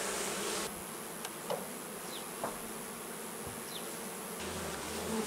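Honeybees buzz around hives during a summer honey harvest with linden in bloom, a faint steady hum with individual bees droning past close by, heard alone outdoors.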